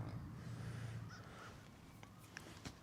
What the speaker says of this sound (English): Y'all hear them crows?